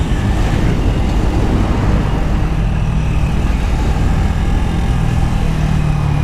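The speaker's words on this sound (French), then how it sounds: "Petite voiture." A small car passes on a road, heard from a motorcycle rider's position with a steady engine and road rumble throughout, loud and continuous with no talking.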